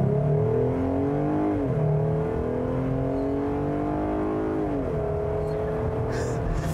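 Jeep Gladiator with a 3.6 liter Pentastar V6 driving on the road: a loud, close, steady engine drone that climbs in pitch as it accelerates, drops briefly at a gear change, then rises again.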